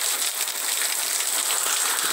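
Heavy rain pours down close by in a dense, steady hiss that never lets up.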